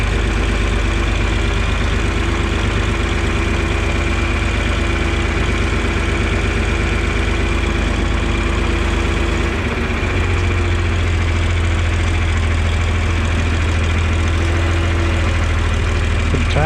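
A tractor engine idles steadily, hooked up to a feed grinder on a farm in Northeast Ohio, with a loud, continuous low rumble and vibration throughout and no talking.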